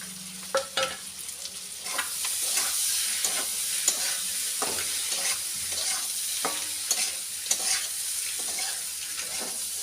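Egg keema masala mixture sizzling in a pan over a low flame, a steady bright fry broken by repeated scraping and stirring knocks from a spatula, close and alone.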